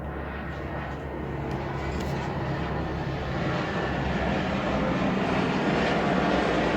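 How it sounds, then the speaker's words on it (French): A fixed-wing airplane passes overhead in a quiet outdoor setting, a steady broad low roar that swells gradually and stays loud for the whole stretch, with no talk over it. "On va laisser l'avion passer."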